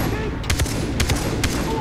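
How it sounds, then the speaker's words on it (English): Scattered gunshots from the Far Cry 3 video game ring out in a few sharp bursts over a steady game background, with someone speaking now and then between the shots. "I go ahead and shoot that guy?"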